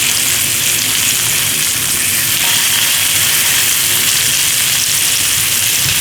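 Short ribs browning in a pan for braising, giving a steady, loud broadband sizzle and crackle of frying meat that runs close and continuous throughout, with no talk.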